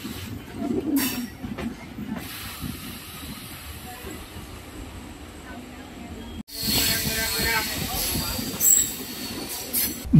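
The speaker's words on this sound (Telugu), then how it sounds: "ఇప్పుడు మన ట్రైన్ బీబీనగర్ రైల్వే స్టేషన్లోకి వెళుతోంది" A MEMU passenger train rolls into Bibinagar railway station, wheels squealing and brakes hissing over a steady rumble, with a sudden loud burst of rushing noise partway through and faint voices in the background.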